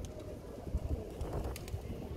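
Pigeons and seagulls fly in overhead in a town: faint cooing and bird calls sit beneath steady wind rumble and outdoor noise.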